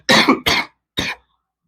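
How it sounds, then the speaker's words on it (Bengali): A person with a cold coughs three times in quick succession, two harsh close coughs followed by a shorter third after a brief pause, then silence. "একটু কাশি জনিত সমস্যা রয়েছে ঠান্ডা লেগে গেছে যার কারণে কাশি আসতেছে বারবার"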